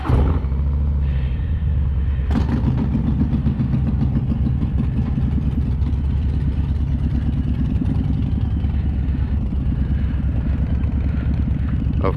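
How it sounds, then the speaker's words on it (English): A Harley-Davidson FXLRS motorcycle engine runs steadily and loudly throughout, a deep rumbling throb at close range with no break. "the wife's bike is a little more aggressive sounding than mine"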